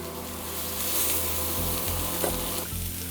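A batch of bell peppers fries in a hot pan, a steady close sizzle with brief stirring scrapes, no voices.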